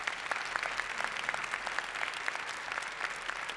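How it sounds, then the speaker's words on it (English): Audience applause for a guest doctor at the close of a live session, a steady patter of many hands clapping at moderate distance, even and sustained without voices. "If we can have a round of applause for our guest,"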